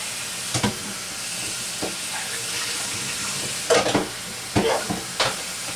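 Cold water poured onto hot cooked lasagna noodles produces a steady hissing, steaming sizzle with a few brief clatters and bumps, close and moderately loud throughout.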